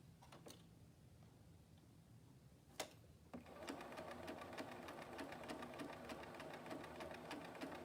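A domestic sewing machine chain-pieces quilt fabric, starting after a couple of soft taps and settling into a fast, steady mechanical stitching rhythm at close range, quiet overall.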